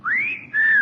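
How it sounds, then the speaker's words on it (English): A young man gives a short two-part whistle, a rising-and-falling wolf-whistle-like tone, clear and close with no talking over it. "I find that whistle intensely objectionable"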